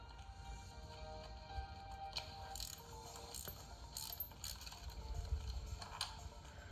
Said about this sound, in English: Now that we've stored all 8 of our bolts in the tray in the trunk